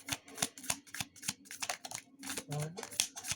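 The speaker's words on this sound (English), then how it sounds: "Let me shuffle for you." Tarot cards are shuffled by hand in a quick, uneven run of soft riffles and flicks, close and quiet, with someone talking over them.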